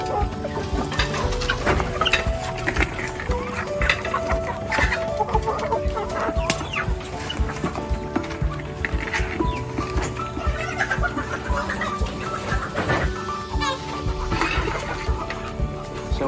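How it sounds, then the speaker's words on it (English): Free range chickens clucking steadily on a farm, a dense, continuous chorus of close clucks and calls with other livestock sounds mixed in. "We have here our free range chicken."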